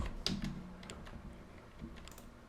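A few quiet computer keyboard key presses in a text editor, with one sharp click near the start followed by lighter taps in a calm, close setting.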